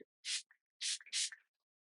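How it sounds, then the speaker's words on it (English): Three short hissing bursts of a spray bottle misting, one then a quick pair, with faint clicks in between and silence around them. "it's nice if you spray this nice and high in the air"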